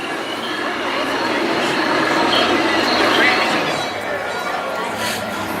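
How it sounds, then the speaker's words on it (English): A train ride at Knott's Berry Farm at night rumbles and rattles continuously up close, a loud steady roar of wheels and cars with faint squeals. "look at this train, dude. This train is simply ghastly."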